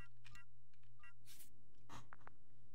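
Phone number dialed in the video game Shadows of Doubt, several short electronic tone beeps and clicks spaced unevenly over a low hum, faint, with no talk.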